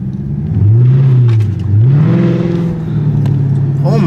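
A car engine revs up and down in loud, rising and falling sweeps, close by, with excited voices talking over it.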